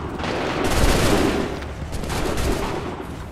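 A volley of musket fire in Assassin's Creed III, a loud crackling fusillade of overlapping shots swelling and fading over a few seconds, with no clear speech.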